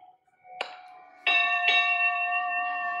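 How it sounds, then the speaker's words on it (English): A bell rings out over a bay as a board game app sound effect, with three clear metallic strikes whose bright tones hang and fade slowly, and no talk. "The sound of the bell rings out over the bay."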